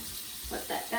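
Water runs briefly from a tap while curly hair is styled with gel, giving a few short, soft gushing bursts that grow slightly louder toward the end.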